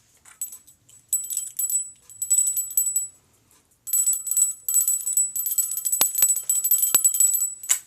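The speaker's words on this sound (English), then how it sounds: "Yes, it is a bell." A small bell jingles in quick, bright, high-pitched bursts, close to the listener, ringing on and off with short gaps and then more continuously toward the end.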